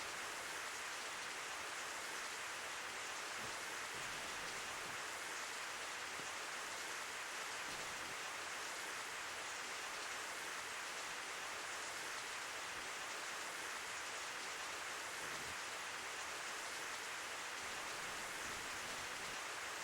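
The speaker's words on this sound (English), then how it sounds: "I have a love-hate relationship with the rain in this game." Video game rain falls as a steady, even hiss that continues unchanged for about twenty seconds, moderately loud and alone with no talk.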